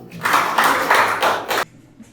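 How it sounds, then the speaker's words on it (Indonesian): Classroom students clap in a short, loud burst of applause lasting about a second and a half, then stopping abruptly into near silence. "Beri tepuk tangan untuk Mata dulu"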